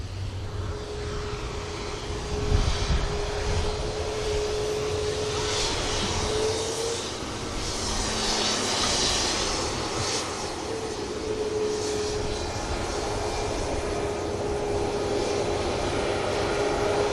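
A Sun Express airliner taxis and prepares to depart at an airport, a steady distant engine roar with a faint whining tone, moderately quiet and unbroken throughout.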